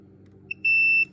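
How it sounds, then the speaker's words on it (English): A continuity tester beeps while fuses in a fuse box are checked one by one, giving a short chirp followed by a steady, clear electronic tone of about half a second over a faint background hum. "I just wait to hear the beep."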